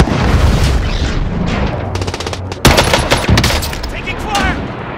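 Dense gunfire in Call of Duty Warzone on PS5, rapid automatic bursts and heavy shots clattering loudly over a busy battlefield, with a sharp louder volley midway and faint voice chatter underneath.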